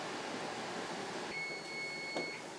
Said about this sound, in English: that's the alarm for the second batch of 20 minutes